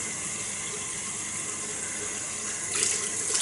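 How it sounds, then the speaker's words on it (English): Running water from a tap splashes steadily while a face is rinsed, a close, continuous wash that swells slightly near the end, with no talking. "Give that another wee rinse."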